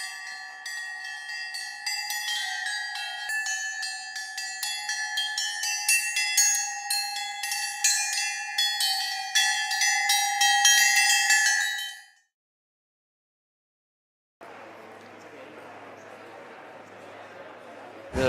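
Bells ring as part of a sound art work in a dense, continuous metallic chiming with many overlapping tones. They stop abruptly and are followed by silence, then a different noisy, humming texture.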